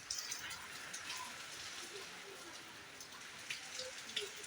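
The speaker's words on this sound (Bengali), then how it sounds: "এই যে দেখতেছেন বাইরে এখনো কত বৃষ্টি" Rain falling outside in a village makes a faint, steady patter with scattered sharper drops, and a soft voice is heard briefly underneath.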